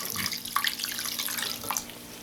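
Water running from a tap into a bowl of marinating split chicken pieces, a steady close splashing pour with small bubbling gurgles, no voices.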